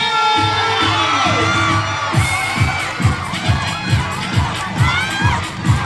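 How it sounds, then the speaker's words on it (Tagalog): A large crowd shouts and cheers loudly, with children's voices prominent and a steady rhythmic beat pulsing underneath. "Isang malakas na palakpakan na may kasamang hiyawan!"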